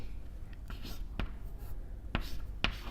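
Marker or chalk strokes on a lecture-hall board during a solid-state physics lecture on band theory, heard as a few sharp, separate taps and scratches against a faint room background.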